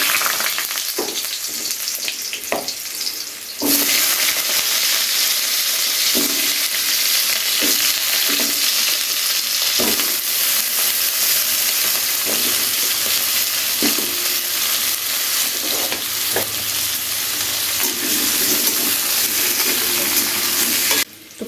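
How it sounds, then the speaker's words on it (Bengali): Pumpkin pieces fry in hot oil in a pan for a chhyachra, a loud steady sizzle running throughout with scattered clatters of stirring and no talk. "কুমড়ো কিন্তু ফিফটি পারসেন্ট ভেজে নিয়েছি"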